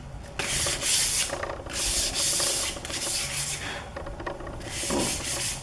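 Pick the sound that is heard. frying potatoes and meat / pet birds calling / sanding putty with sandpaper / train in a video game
sanding putty with sandpaper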